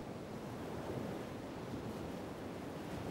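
Ocean waves wash steadily onto a beach in a continuous broadband roar, with wind buffeting the microphone and no voices.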